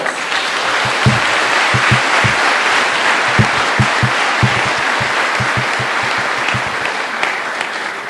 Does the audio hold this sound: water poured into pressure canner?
no